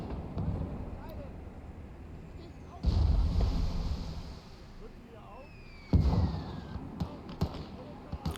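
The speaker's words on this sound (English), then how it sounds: "He's even got mortars now too." Mortar rounds landing in the WWII game Gates of Hell: Ostfront on the Valley map, with two heavy low booms about three seconds apart plus faint distant battlefield noise, heard without talk.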